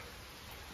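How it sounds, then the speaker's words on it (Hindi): Steady rain falls throughout a brief moment, a dense, even hiss of drops with no break and no voices. "बारिश तो रुकने का नाम नहीं ले रही है अभी"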